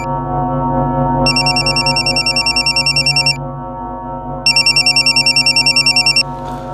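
A telephone rings in two bursts of rapid trilling over a steady background drone, with a pause between them.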